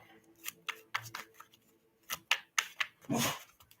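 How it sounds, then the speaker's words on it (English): Tarot cards are riffled and shuffled in quick bursts of crisp flapping, ending in a longer cascading riffle, close and fairly quiet. "Oh, that means I have to shuffle more."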